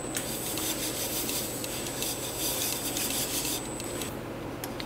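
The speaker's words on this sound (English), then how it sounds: "I'm going to just buff this a little bit" A wooden bowl spinning on a woodturning lathe is buffed, giving a steady, close, moderately quiet rubbing hiss with a faint high whine, holding unchanged for a few seconds and then easing off near the end.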